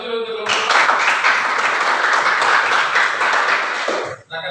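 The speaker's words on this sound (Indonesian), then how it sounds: "beri aplaus dulu untuk kelompok" A classroom group claps steadily for a group of students, dense sustained applause for about four seconds that cuts off abruptly, with a voice just before and after.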